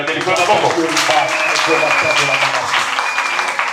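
A church congregation applauds in praise of the Lord, a broad wash of clapping and cheering voices filling the room throughout, mixed with shouts and talk.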